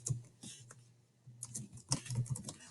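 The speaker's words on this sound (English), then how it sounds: "So once I start typing" Several keystrokes tap on a computer keyboard in short irregular bursts, close and fairly soft, with a steady low hum underneath.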